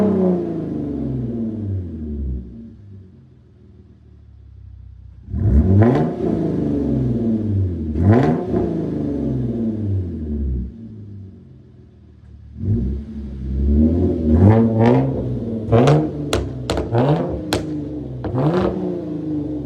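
A Hyundai Genesis Coupe 3.8 R-Spec with its muffler deleted revs hard several times. It starts with a low idle rumble, then two sharp throttle blips, a longer rev, and a quick cluster of rising revs near the end, loud and close.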